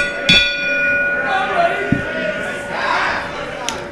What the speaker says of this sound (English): You haven't told me to ring the bell.